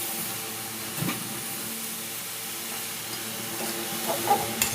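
Bottle gourd pieces and potatoes sauté in a pan with a low, even sizzle, and a few scraping stirs come and go.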